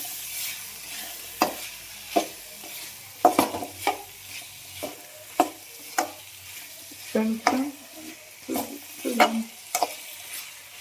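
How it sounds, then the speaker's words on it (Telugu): Vegetables sizzle in a pan with mint, coriander and chillies, a low steady frying hiss broken by repeated close scrapes and knocks of a spatula stirring the mix. "బాగా పుదీనా, కొత్తిమీర, మిరపకాయ అయితే బాగా వేగిపోయినాయి. ఇప్పుడు వెజిటేబుల్స్ అన్నీ వేసేస్తున్నాం."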